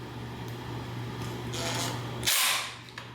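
An impact driver snugs screws on a ceiling fan arm during installation, giving a short burst of close rattling hammering near the end after a stretch of quieter handling noise.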